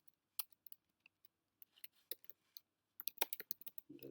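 Sparse keystrokes tapped on a computer keyboard, a few isolated clicks and then a quicker burst of typing, close and fairly quiet with no talking.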